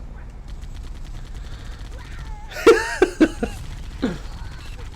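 Warthog turret machine gun fire during a Halo: Combat Evolved battle, heard as a few sharp bursts with fainter shots trailing off over steady game noise.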